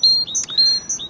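Great tit calling up close: a few sharp, high, thin notes in quick succession, loud and clear with no background noise or voices.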